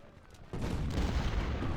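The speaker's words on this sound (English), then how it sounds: "Here we have enemy artillery." Enemy artillery fire in the Civil War strategy game Ultimate General: Civil War at the Battle of Gaines' Mill, a sudden heavy rumbling burst of cannon fire that begins about a third of the way in and keeps rolling loud to the end.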